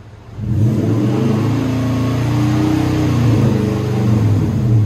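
A 2008 Nissan Titan 5.6L V8 pickup with a Flowmaster Super 40 exhaust climbs into a sustained high rev at 4,000 RPM and holds it steadily for several seconds, loud and nearby, with a rough exhaust rumble underneath.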